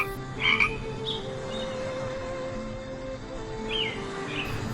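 Frogs croak steadily at a pond, a dense chorus of calls close by with a few brighter chirps standing out over the continuous croaking.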